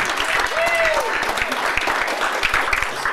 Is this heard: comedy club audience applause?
yes